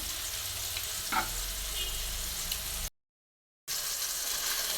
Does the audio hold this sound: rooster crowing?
no